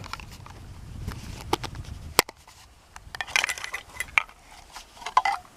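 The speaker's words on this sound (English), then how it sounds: "I've got my fuel canister here, my little pot. Inside the pot is the stove." A small camping pot, a compact stove and a fuel canister are handled on a kayak camping trip, giving scattered metallic clinks, taps and rattles, mostly quiet with a few sharper knocks.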